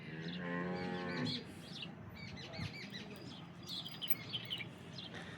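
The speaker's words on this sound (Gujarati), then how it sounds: "આ બંને ગાયો આપણી પાસે ગામણમાં છે" A cow lets out one long, fairly near moo, then quieter farm ambience with faint bird chirps follows.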